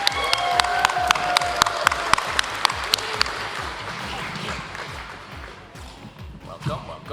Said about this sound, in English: Please welcome, with a loud bang and clapping, Courtenay Taylor.